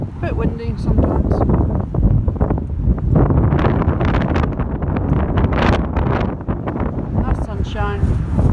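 Strong gusts buffet the microphone on a seaside promenade, a steady low roar that runs loud and close throughout, with the walker's voice heard over it near the start and end.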